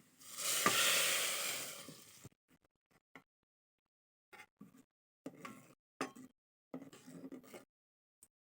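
Spices tempering in hot oil for a Bengali shing fish curry give a loud, bright sizzle for about two seconds, then fade into scattered soft clinks and stirring clatter.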